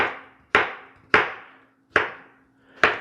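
A knife quarters a tomato for a Greek salad, landing five sharp, evenly spaced chops on a cutting board, close and clear with short decays and no talking.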